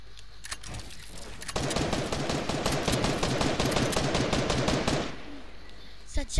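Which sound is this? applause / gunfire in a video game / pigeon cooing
gunfire in a video game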